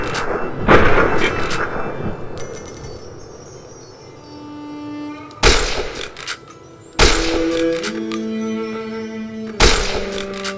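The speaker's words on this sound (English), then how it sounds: "I just shot her in the back" Gunfire in Fallout: New Vegas comes as about four loud, sharp booming shots spaced a few seconds apart, each trailing off into a ringing tail. Quieter game ambience fills the gaps between them.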